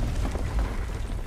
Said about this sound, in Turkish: Patlama sesi ve demonların sesi.